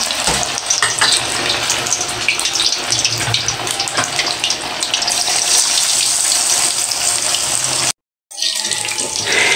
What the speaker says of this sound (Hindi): अभी हम ना इसको ना फ्राई कर लेते हैं।